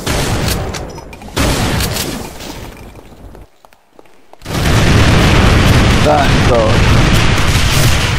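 A boss fires a minigun in modded Ultimate Doom: loud, dense bursts of rapid gunfire and booms, a brief near-silent gap, then sustained heavy firing, with voices talking over it.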